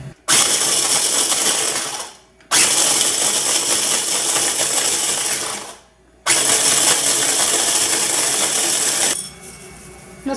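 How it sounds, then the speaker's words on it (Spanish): A food processor grinds Oreo cookies into powder in three loud whirring bursts separated by brief pauses, close-up and with no talking. "Yo voy a utilizar el procesador de alimentos para moler las galletas."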